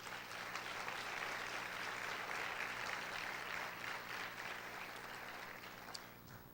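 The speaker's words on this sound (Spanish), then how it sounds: "Dele fuerte ese aplauso al Rey." A church congregation applauds during a preaching conference, steady, dense clapping from a crowd heard at a distance and fairly faint throughout.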